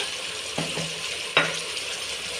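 Mutton with rock salt and turmeric stirred in a pot over a steady sizzling hiss, with two brief scraping strokes of a spoon against the metal, close and fairly loud.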